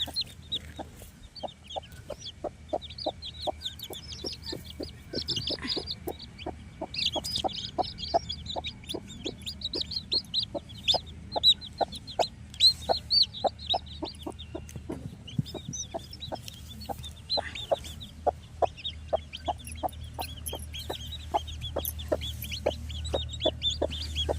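Chicks cheeping and hens clucking on a poultry farm, a steady run of high chirps with frequent clucks over a low background hum, close and continuous throughout with no talk.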